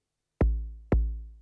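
Two short synthesized kick drum thumps from a Korg Volca Drum on its original A1 kick patch, punchy low hits half a second apart with a brief tail, heard alone.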